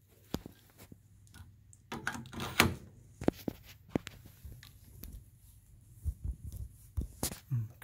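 An RV storage compartment door is handled up close: a series of sharp knocks, clunks and latch rattles in irregular bursts, some louder than others, with quieter fumbling between and no speech.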